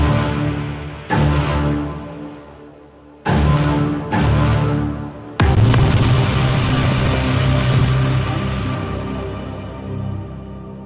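Orchestral stabs of low brass layered with cello and bass strings strike hard in separate hits, each ringing out and decaying, before a sustained string passage swells in and carries on loudly.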